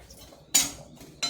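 Roasted peanuts, still in their skins, are scraped off a pan onto a plate with a metal utensil: two bright clattering scrapes separated by a short pause, close and fairly quiet.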